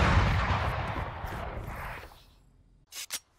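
Gunfire in the tactical shooter Valorant: a dense, loud burst of many rapid shots that decays over two seconds, followed by two short sharp sounds near the end.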